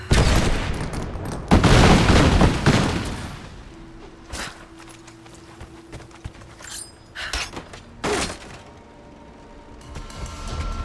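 Heavy pistol gunfire in Rise of the Tomb Raider: several loud, sharp shots in bursts, with quieter clanks and footsteps between them.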